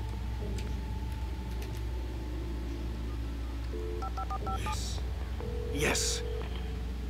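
A telephone is dialed in the video game Alan Wake, a short run of keypad tones beeping steadily over a low ambient game hum, followed by a brief louder burst.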